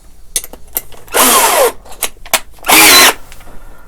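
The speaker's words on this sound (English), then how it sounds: "I'm just going to do this with the hand drill" A hand drill bores into workpiece material in a workshop during restoration of a 1970s Crestwood 2064, in two loud bursts of about half a second each with faint clicks and handling noises between them.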